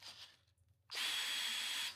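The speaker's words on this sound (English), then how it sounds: "I'm going to hold it with pliers and just" A power drill bores out a riveted nut on a battery cable terminal during final wiring of a Land Rover Discovery 2 LS engine swap. A quiet pause gives way to a loud, close, sustained high-pitched drilling whine.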